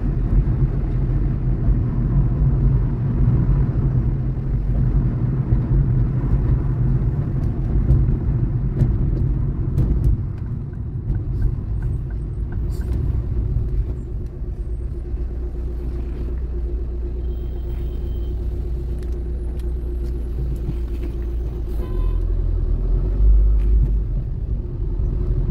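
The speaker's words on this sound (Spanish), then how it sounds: "Se vuelve más lento, más cargado el tráfico." Slow, heavy road traffic along Avenida Italia in Montevideo, a constant low rumble of car and bus engines passing close by for the whole stretch, dipping slightly midway then swelling again.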